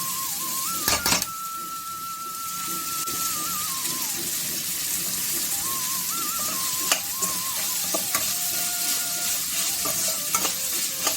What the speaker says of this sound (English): Allow it to fry for a while.